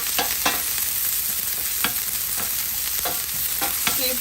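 Onions sizzling steadily in hot oil for seafood spaghetti, with a spatula scraping and stirring the pan in repeated close strokes over a constant frying hiss.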